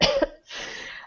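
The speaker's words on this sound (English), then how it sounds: "do a fake little cough" A short deliberate fake cough from a woman, one sharp burst followed by a breathy exhale, close and alone.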